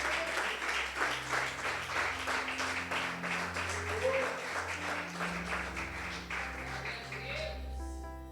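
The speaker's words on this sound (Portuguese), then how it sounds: "Dê uma salva de palmas ao Senhor." A church congregation claps in sustained, dense applause at a worship service for about eight seconds, steady and fairly loud, with low organ or keyboard tones humming underneath and a few voices faintly audible.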